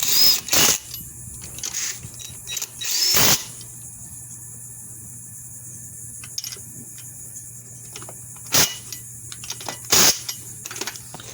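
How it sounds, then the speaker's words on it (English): Lug nuts go onto a Mazda Miata rear brake hub during a 5-lug conversion: a few sharp metallic clicks and clanks in bursts, separated by quiet pauses, close up. "Now I'm going to put 2 lug nuts on to show you how close"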